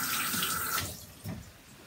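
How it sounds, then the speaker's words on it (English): Hands being washed with soapy water under a running kitchen tap, a steady close rush of water for most of the second before the flow drops away, leaving a brief splash and quieter trickling. "Wash my hands well,"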